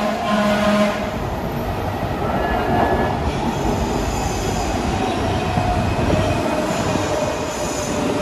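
Los Angeles Metro Purple Line subway train pulling into the underground 7th St Metro Center station: a loud, sustained rumble of wheels on rail with high squealing tones, close and continuous throughout.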